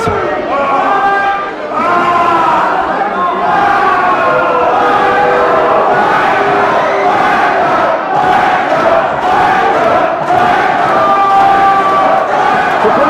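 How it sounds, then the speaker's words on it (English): A wrestling crowd at BLW Gold Rush 2017, during Alberto Del Rio vs. Mr Anderson, chants loudly and rhythmically in unison throughout, a dense, sustained arena roar. "Wrestling fans, they know exactly what this crowd is chanting."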